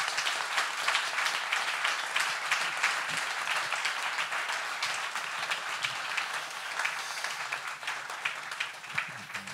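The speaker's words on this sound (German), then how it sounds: "Ich würde vorschlagen, einen kleinen Applaus für unsere Rednerinnen und Redner." An audience at a panel discussion on NSU terror, the state and its investigation applauds the speakers, a sustained wash of many hands clapping at even loudness for several seconds.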